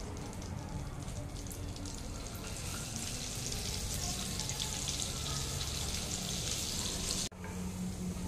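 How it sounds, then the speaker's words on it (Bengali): Garlic fries in hot white oil in a pan, a steady dense sizzle that continues throughout with a brief break near the end. "রসুনটা আমার কিছুটা ভাজা ভাজা হয়ে গেছে"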